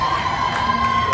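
Corporate group cheering on climbers at an indoor climbing wall in a mall, a steady, close wash of crowd voices shouting encouragement throughout.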